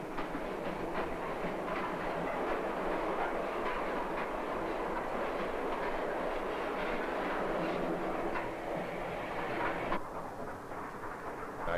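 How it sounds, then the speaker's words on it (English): A train rolls along steadily with a continuous rumble and faint rhythmic clacking of wheels on rails, heard from inside at moderate volume. "they depart on a two-day train ride to the city of Chengdu"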